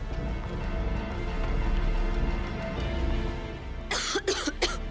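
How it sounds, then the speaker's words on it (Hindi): A person coughs three times in quick succession near the end, a short burst of harsh coughs over a steady background murmur. "तुझे भी खांसी आ रही"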